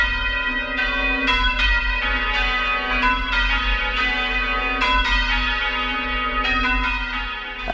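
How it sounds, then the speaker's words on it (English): A church bell rung up by pulling its rope, struck repeatedly in an irregular rhythm as it swings higher, loud and close with a long ringing hum sustained beneath the strikes and no talk. "So you pull on the rope and the bell is gradually going round and round."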